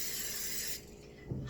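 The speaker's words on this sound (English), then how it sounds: "we can just spray this again" Cooking oil sprayed from a can onto a crepe pan gives a steady, fairly soft hiss lasting under a second before cutting off, leaving a faint hum behind.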